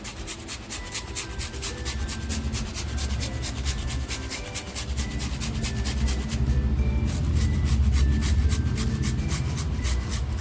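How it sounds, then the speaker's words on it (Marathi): A small tomato rubbed against a hand grater for a steamed surmai fish curry gives fast, rhythmic rasping strokes, close and steady throughout, with no talking. "हा सुद्धा टॅमॅटो मी छान असा किसून घेणार आहे"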